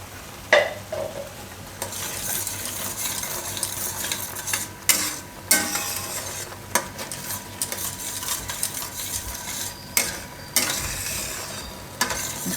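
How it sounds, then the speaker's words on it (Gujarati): Thin chutney of garlic, green chillies and peanuts simmers in a pan, giving a close, steady sizzling bubble broken by intermittent stirring and clinks of a spoon against metal, with no voices. "તો થોડીક વાર આને ઉકાળી લેવું."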